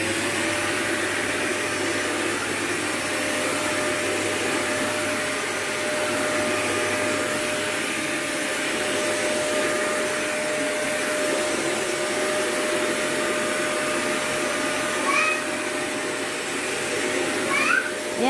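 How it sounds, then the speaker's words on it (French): A steady, loud motor whine with airy hiss runs continuously from a Rowenta steam vacuum-mop cleaner operating close by, with a couple of faint squeaks near the end. "pour passer donc l'aspirateur en plus, donc j'appuie sur le petit bouton vert."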